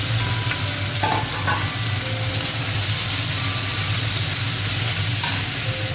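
Onions frying in hot oil in a wok, giving a steady, dense sizzle that runs unbroken throughout at close range, with a low hum underneath and a few faint clinks from the pan.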